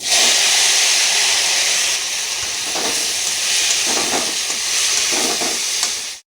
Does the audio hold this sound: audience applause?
no